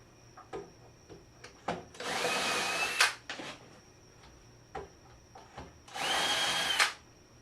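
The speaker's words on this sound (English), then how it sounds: "I'm going to go ahead and pre-drill these a little." A power drill pre-drills holes in wood in two separate bursts of about a second each, whining up and winding down. Quiet clicks and handling noises fill the gaps between them.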